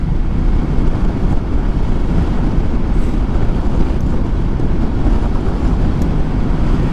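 A Royal Enfield Guerrilla 450 motorcycle engine burbles at low revs while being ridden, a steady deep rumble heavily mixed with wind buffeting and no talking.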